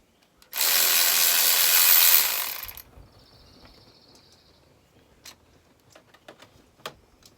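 A power tool runs in one steady, loud burst of about two seconds while banjo bolts come off an R56 Mini Cooper S during an oil leak repair, followed by scattered small clicks and taps of hand tools.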